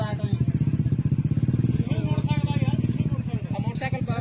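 A motorcycle engine idles and chugs steadily close by, its rhythmic putter continuing throughout while someone talks over it.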